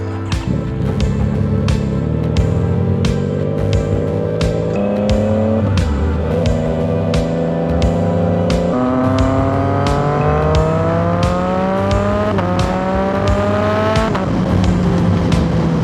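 Yamaha MT-09 motorcycle on fresh tires riding along a high prairie desert road, the engine loud and close, pitch climbing steadily through the gears with brief drops at each shift and steady wind rush underneath.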